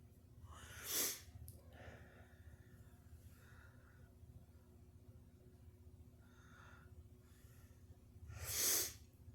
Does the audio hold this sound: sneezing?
yes